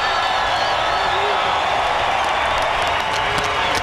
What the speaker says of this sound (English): the crowd giving him props for the effort